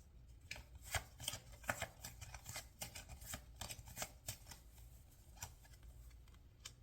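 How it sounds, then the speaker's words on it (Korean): A deck of tarot cards is shuffled close up during a reading, with quick, soft riffling flicks and taps in an uneven rhythm for several seconds, quiet and with no talking. "또 추가적으로 카드를 뽑아볼게요."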